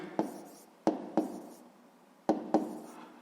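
Numbers written by hand on paper, a few sharp pen taps and short scratchy strokes with pauses between them, close and fairly quiet.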